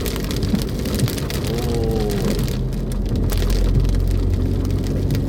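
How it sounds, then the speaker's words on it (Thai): Steady, loud rain pours over rice spread out to dry along a roadside, a dense continuous hiss and patter that stays even throughout with a low rumble beneath. "วันนี้ฝนตกครับ"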